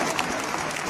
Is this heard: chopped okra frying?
no